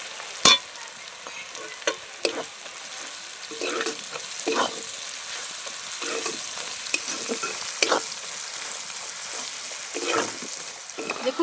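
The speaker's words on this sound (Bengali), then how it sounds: "দেখুন পেঁয়াজটা আমি লাল করে ভেজে নিয়েছি।" Chopped onion frying in oil with a pinch of salt until reddish-brown, a continuous near sizzle with frequent spatula scrapes and stirring knocks throughout.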